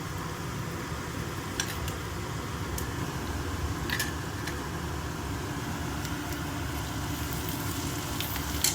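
Curry leaves and green chillies dropped into oil with golden fried onions for egg curry, giving a steady broad sizzle with a few sharp crackles and pops.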